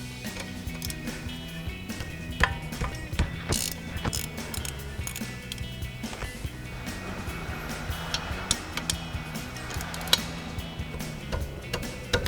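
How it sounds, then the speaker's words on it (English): A 16mm ratchet wrench works brake caliper bolts loose on a 2020-2026 Chevrolet Silverado 2500 8-lug truck, giving a steady run of fast, close mechanical ticking clicks with no talk. "we've got our 16mm ratchet wrench. We'll get those popped off first"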